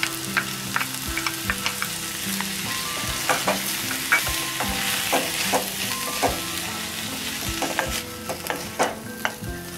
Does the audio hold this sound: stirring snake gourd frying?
yes